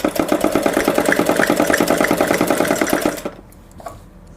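A sewing machine runs loud and close while stitching a girl's salwar, a fast regular clatter lasting about three seconds before it stops, leaving faint handling sounds.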